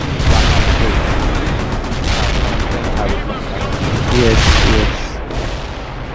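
Howitzer artillery fire in the World in Conflict video game: a few loud, booming bursts rising out of a rumbling battle, with a brief spoken word mixed in.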